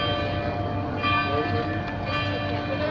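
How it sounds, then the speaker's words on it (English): A church bell in Leiden rings steadily at noon, its sustained metallic tones carrying over a busy street with cyclists, with no talk over it. "I don't know what the church bell's about."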